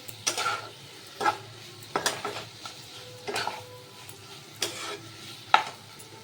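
Spoon stirring kochur loti (taro stolon) curry sweetened with jaggery in a pan, giving a series of scraping clinks against the metal roughly once a second over a faint steady simmer, with no talking.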